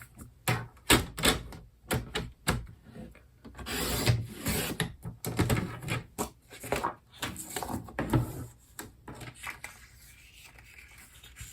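Paper strip cut 1.5 inches wide for autumn card making, heard as irregular rasping, scraping strokes of cutting, loud and close, thinning out toward the end.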